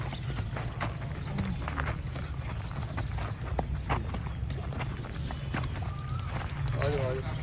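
Horse hooves clip-clop steadily on the ground, close and fairly loud, while a person speaks over them and a low rumble runs underneath.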